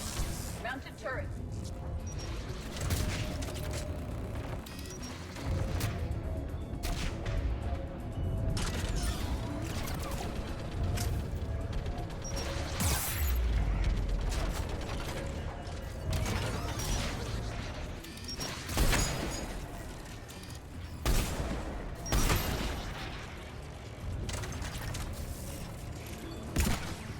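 Mounted turret fire in the Mass Effect 3 video game, dense bursts of mechanical gunfire and crashing impacts running continuously through a long stretch of combat, loud and busy, with scattered sharp hits standing out.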